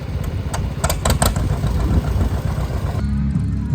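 John Deere lawn tractor engine running steadily at an outdoor fall festival and antique tractor show, a loud, close, continuous mid-pitched drone with a few brief rattling clicks early on and no voices.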